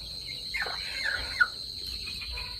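Gavran (desi) chickens in a poultry shed in Vengurla, Konkan, cluck softly in a few short, scattered calls, one slightly louder, against a quiet background hum.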